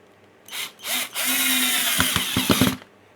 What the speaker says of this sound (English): If you guys are drilling holes and you want to have a consistent depth, a consistent hole for your projects, I highly recommend this countersink drill bit set here